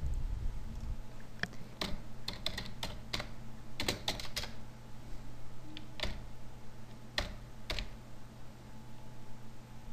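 Computer keyboard keys clacking at close range as an SQL statement is typed, an irregular run of quick taps and short bursts over a quiet room with no talk.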